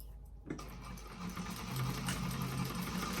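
A sewing machine starts up after a brief quiet and runs a steady, close stitching hum along a bag seam, with back stitches at the end of the line.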